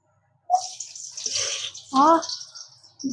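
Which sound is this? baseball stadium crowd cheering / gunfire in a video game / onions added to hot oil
onions added to hot oil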